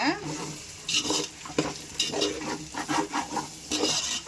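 Vegetables for a biryani, soaked peas among them, sauté in oil with a busy sizzle under repeated scraping strokes of a spoon against the pan, close and fairly loud.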